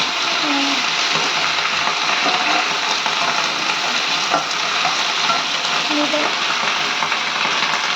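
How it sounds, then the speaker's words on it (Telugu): Steady broadband sizzle of Malabar spinach greens frying in oil, with occasional soft stirring scrapes; continuous and close, no voices. "ఆయిల్లోనే కొద్దిగా గోలుచుకోవాలి"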